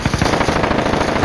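Rapid SMG automatic fire in the video game Warzone, a loud, close, continuous burst of evenly spaced shots lasting about a second.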